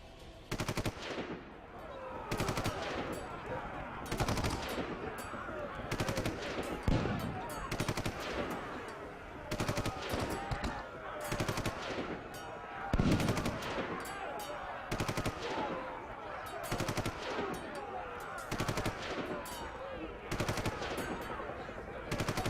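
Islamic State fighters in Syria fire automatic machine guns in repeated rapid bursts for over twenty seconds, loud and reverberant, with a faint voice underneath.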